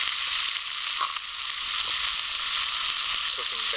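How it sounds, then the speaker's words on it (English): Bacon sizzles in a pan at a cold-weather canoe campsite: a steady, close hiss of frying fat with small pops and crackles running unbroken for almost four seconds. "Cooking bacon."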